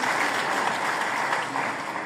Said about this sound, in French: Monsieur Zinsou, applaudissez pour lui aussi